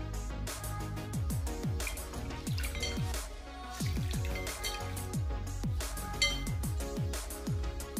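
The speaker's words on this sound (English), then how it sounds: "I'm gonna take a damp face cloth and I'm just gonna wet it" Tap water running onto a face cloth to wet it, with rapid splashing drips and gurgling plops close by, steady throughout.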